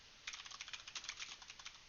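A stenographer typing on a keyboard, rapid irregular clicking of keys in a continuous patter, faint and close, with no voices.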